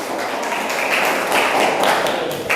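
A class of students claps together in a quick burst of dense, close applause with scattered taps, steady throughout and with no voices over it.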